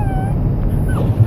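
A dog whimpers and cries with thin, high, wavering whines inside a car, close and fairly loud over a steady low engine and road rumble.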